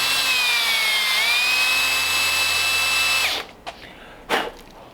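A countersink bit bores into aluminum for a chopped windshield on a 1929 Ford Roadster pickup, giving a loud, steady high-pitched whine for about three seconds before stopping, then a few faint scraping touches.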